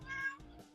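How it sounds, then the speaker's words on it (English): A cat gives a single short, clear meow, close by and fairly quiet. "Damn cat."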